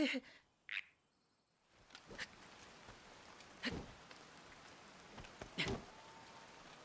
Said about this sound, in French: La pluie n'a pas l'air de vouloir s'arrêter.